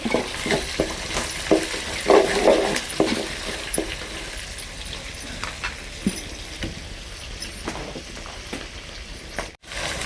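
Thinly sliced garlic sizzles in hot oil in a pan, a steady frying hiss with occasional stirring scrapes and light utensil clinks, close and fairly loud throughout.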